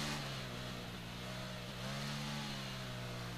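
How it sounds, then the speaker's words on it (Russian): A 2014 Ducati Monster 696 motorcycle in Ride 3, its engine holding a steady, loud rumbling drone with a brief dip and pickup in revs partway through, heard alone with no talk. "Очень крутой, конечно, мотоцикл."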